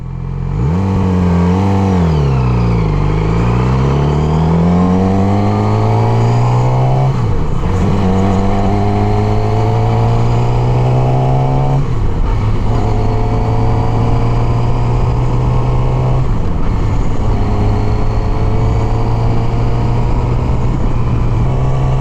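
A Yamaha R6 600cc sport motorcycle accelerates hard from a standstill on a hot day, its loud, close engine winding up through several gears with rising whine and brief dips at each shift, no talk.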